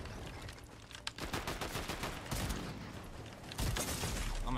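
Gunfire in the video game Fortnite during an arena match, with rapid bursts of automatic shots and heavier single blasts crackling close and loud throughout, mixed with mechanical clicks, in a dense, continuous stretch of combat.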